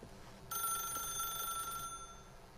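A telephone rings inside The Stanley Parable video game, a steady electronic bell tone that starts abruptly and holds for over a second before fading, alone over a low room hum.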